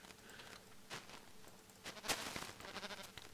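Sheep bleating in Minecraft, a few short bleats and soft patter spread across the moment, fairly quiet with no talk over them.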